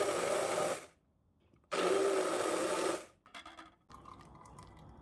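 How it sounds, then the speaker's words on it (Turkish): A kitchen blender whizzes pomegranate seeds in two loud, close bursts with a short pause between them, then rattles and clunks briefly as it winds down. "Blender'dan geçiriyorum."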